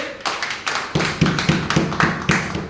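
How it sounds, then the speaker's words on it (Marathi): At a birthday celebration, people clap together in a steady, regular beat of sharp claps, close by and fairly loud, with no talking. "परत एकदा टाळ्या होऊन जाऊ दे"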